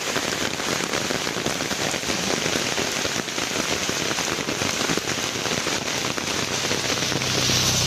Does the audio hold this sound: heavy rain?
yes